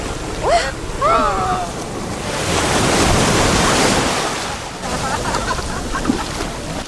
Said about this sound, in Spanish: cuando el agua va para atrás, parece como que el mar te quiere tragar